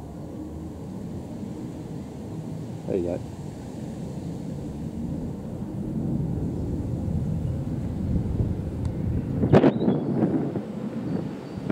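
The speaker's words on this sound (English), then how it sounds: "Taking off, heading towards the north." A Thomson Boeing 737, formerly Sunwing, takes off from Cambridge airport about a mile away and climbs away. A low, distant jet roar sits under steady wind buffeting, and someone talks briefly.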